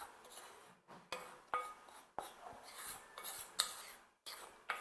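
A utensil whisks crêpe batter with a pinch of salt in a bowl, making quiet repeated scraping strokes in an uneven rhythm with brief clinks, close and faint with no talk.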